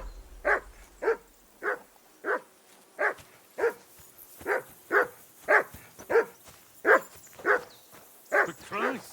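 A dog barks repeatedly in the video game Kingdom Come: Deliverance II, about a dozen evenly spaced, loud, close barks in a steady rhythm with no talk over them.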